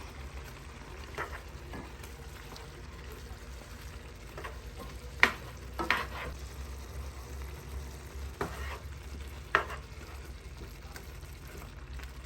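Smoked fish goes into a pot of cooking rice with a steady low sizzle, scattered scraping stirs and a few sharp knocks of the spoon against the pot, close by with no talking.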